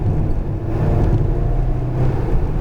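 An Alpine A110R engine hums steadily with a low rumble, the revs swelling as it picks up speed on the Lohéac circuit, loud and close throughout.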